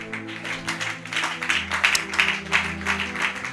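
A church congregation applauds with a steady patter of clapping that swells and continues for a few seconds. A sustained organ-like tone hums underneath.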